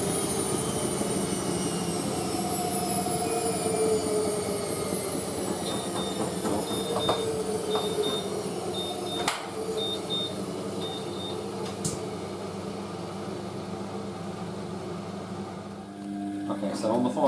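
Indesit WIXXL146 washing machine during its final rinse cycle, a continuous whirring drum and water churn with periodic beeps and occasional clunks, steady and fairly close throughout.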